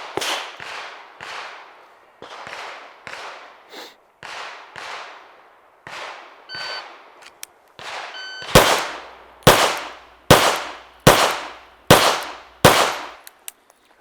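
Sharp pistol shots on a shooting range, a long series of loud cracks with ringing decays, starting in quicker bursts and ending with six heavier, evenly spaced shots up close.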